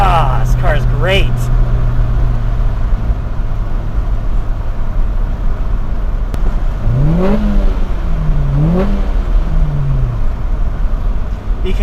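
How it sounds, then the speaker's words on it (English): A 1989 Honda Prelude's engine revs up repeatedly toward high RPM, its pitch climbing sharply as it accelerates, then dropping between gear changes, loud and close inside the cabin. "You can really feel and hear where this car has its peak power"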